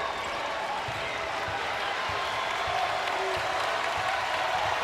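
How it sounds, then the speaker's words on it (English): At an NC State women's basketball game against Syracuse, the home arena crowd keeps up a continuous roar of cheering and noise during a defensive possession, a broad, sustained wash with faint thuds underneath. "NC State's crowd trying to will a stop here defensively."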